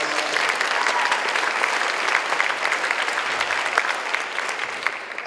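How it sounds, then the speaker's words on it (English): A banquet crowd breaks into a huge, dense round of applause, steady and loud across the whole stretch with a few sharper claps near the front and no speech over it. "So if I can get a huge round of applause."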